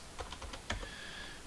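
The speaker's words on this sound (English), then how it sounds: "I'm just typing some stuff in the chat room here" Someone types on a computer keyboard in a quiet room, producing a quick, irregular run of faint, close keystroke clicks with nothing else heard.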